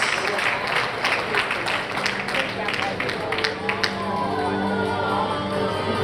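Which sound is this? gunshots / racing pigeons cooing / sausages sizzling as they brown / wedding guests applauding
wedding guests applauding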